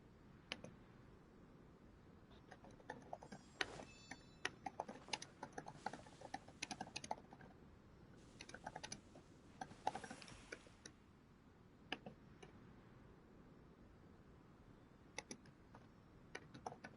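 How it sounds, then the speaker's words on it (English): Keys clatter on a computer keyboard in steady bursts of close, crisp clicks, with brief pauses between runs and no talking. "I'm just typing a comment there."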